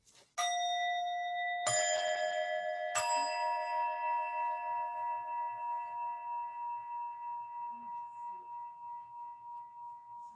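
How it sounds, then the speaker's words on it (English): A meditation bell is struck three times in quick succession, each bright ring overlapping the last, then one long shimmering tone decays slowly with a gentle pulsing beat in a quiet room. "You hear this bell."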